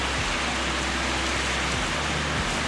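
Steady, dense rain falls continuously with a broad hissing wash, close and loud, with no voices over it.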